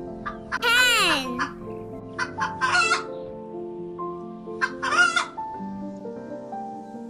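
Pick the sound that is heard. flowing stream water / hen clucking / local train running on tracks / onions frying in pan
hen clucking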